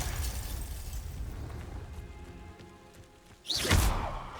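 A Confringo spell in Hogwarts Legacy detonates with a sudden sharp burst near the end, following a stretch of rumbling low ambience and scattered clatter.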